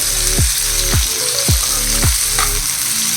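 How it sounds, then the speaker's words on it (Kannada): Onions and garlic fry in hot oil in a pan for a ridge gourd curry, giving a steady, close sizzle that runs the whole time, with a recurring swooping tone layered over it. "ಸ್ವಲ್ಪ ಈರುಳ್ಳಿ ಗೋಲ್ಡನ್ ಕಲರ್ ಬರೋವರೆಗೂ ಫ್ರೈ ಮಾಡಿಕೊಂಡು ಬೆಳ್ಳುಳ್ಳಿನೂ ಹಾಕ್ಕೊಳ್ಳಿ"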